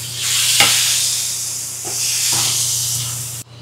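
Chicken hisses and sizzles loudly as it hits a hot pan with bell pepper for Hunan chicken, a steady close frying roar with a few scraping stirs before it cuts off.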